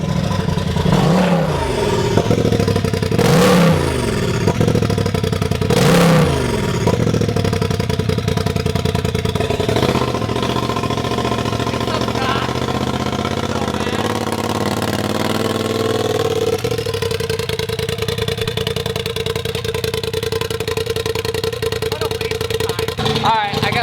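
A straight-piped Polaris RZR Turbo S roars close and very loud, rising through three sharp revs before settling into a rough, steady idle with a long sustained rumble.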